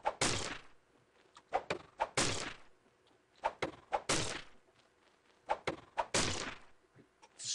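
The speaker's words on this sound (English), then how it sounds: "I destroy the tree very quickly, but I don't get any resources from it." A tree being destroyed in the Townseed game: a series of sharp, loud thunks and chopping hits in irregular bursts, each a quick heavy impact with brief gaps between them.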